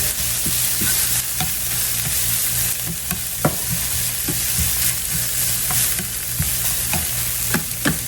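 Sausage frying in a pan with all-purpose seasoning, loud close sizzling under repeated quick scrapes and taps of a spatula stirring, a low hum steady beneath, no speech.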